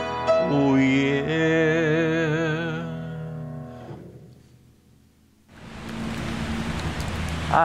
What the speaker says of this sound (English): the rain has increased